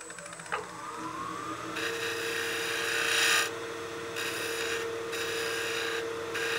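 A wooden birdhouse ornament spun on a lathe as a tool cuts it, a steady hum with a rising whine at the start, then bursts of bright rasping cutting that start and stop several times, close and fairly loud.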